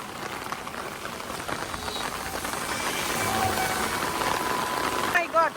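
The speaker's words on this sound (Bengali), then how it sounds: "ঝুম বৃষ্টি হইতেছে" Heavy rain pouring outdoors, a dense continuous hiss that swells slightly louder toward the end, with a brief chirp-like sound near the finish and no clear talk.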